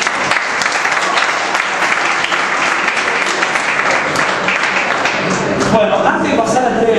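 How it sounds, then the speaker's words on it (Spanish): Loud, dense audience applause for sponsors at a squash awards ceremony, continuous clapping from many hands that stays steady throughout and tapers slightly near the end. "un nuevo aplauso para todos ellos"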